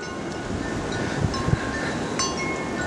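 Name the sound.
strong wind during a windstorm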